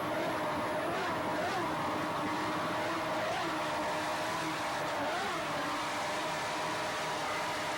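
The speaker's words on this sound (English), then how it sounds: "Stotler motors sound exceptionally strong." Offshore powerboat racing engines at the Sunoco Offshore Shootout 1992, Predator race team with Stotler motors: a steady, loud, droning roar of high-revving marine engines with rising and falling pitch sweeps, continuous throughout, no voices.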